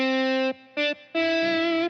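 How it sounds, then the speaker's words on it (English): Electric guitar playing a slow melody in three sustained notes, each swelling in volume and ringing out with reverb, with a short gap between phrases and no talk. "I just sort of swelled in the volume on the melody."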